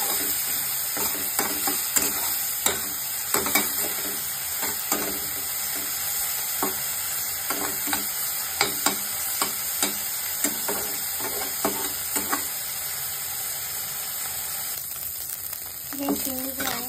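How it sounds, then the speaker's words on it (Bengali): Prawns fry in hot oil in a kadai, a loud continuous sizzle and hiss punctuated by regular scraping and clinking stirs of a spatula, close up, with a voice speaking briefly over the cooking. "কড়াইতে তেলটা গরম হয়ে গেছে, এবার চিংড়িগুলো দিয়ে দেবো"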